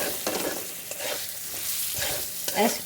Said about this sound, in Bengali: এটার একটু ভেজে নেবো ভালো করে